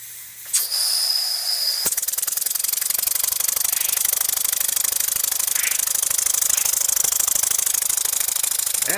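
A small wobbler steam engine, a first build with an unusual flywheel, runs on compressed air from a leaky compressor, starting with a sharp burst and settling into a steady, rapid hissing chuff that continues loudly throughout.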